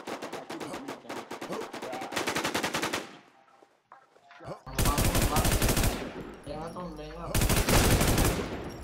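Rapid bursts of automatic gunfire from the online shooter game Warz rattle in dense volleys, pausing briefly before another long, loud string of shots.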